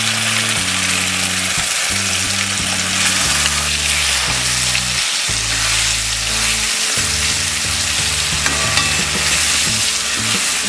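Red chilli garlic paste with cumin and a pinch of asafoetida sizzling in a pan over a low flame, a constant bright frying hiss with repeated scraping strokes of a spoon stirring through it.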